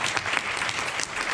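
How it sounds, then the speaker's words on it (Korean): An audience at a talk gives a brief burst of dense, steady applause, with many hands clapping close by. "다시 한번 큰 박수 부탁드립니다"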